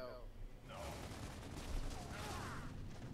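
Gunfire from a teammate in Gears of War: Judgment team deathmatch multiplayer on the Library map, a steady rattling burst of shots with some distant booms, continuing under game noise throughout.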